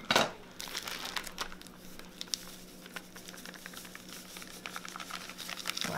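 Cake mix dumped from a bag onto a dish, with a crinkly rustle and a soft pattering pour that continue over several seconds at close range.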